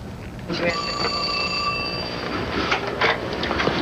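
A telephone rings with steady electronic trills inside a small family-owned pharmacy, fairly close and clear, with room noise and faint voices and movement underneath.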